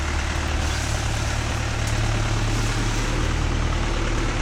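Mahindra Yuvo Tech Plus 585 4WD shuttle-gear tractor pulling a 42-blade rotavator, a steady loud low diesel rumble with broadband churning noise throughout, close and continuous with no speech.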